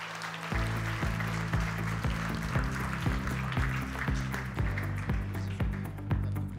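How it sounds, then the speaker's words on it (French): Audience at an awards gala applauding as a CEO walks on stage, a broad sustained clapping under steady rhythmic music with a thumping beat, moderately loud and continuous throughout. "merci de l'applaudir."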